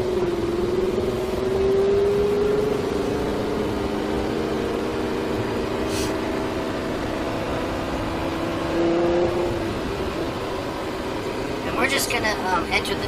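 Lamborghini Huracan on the Speed Vegas track, engine note climbing steadily and then dipping as it upshifts into second gear, a continuous close cabin drone with brief voices over it.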